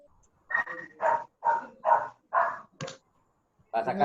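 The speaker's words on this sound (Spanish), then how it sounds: "ese perro está por ahí jodiendo con esa infección" A dog barks in a quick, regular series of about seven sharp barks, fairly close and loud, with short gaps between them and quiet before and after.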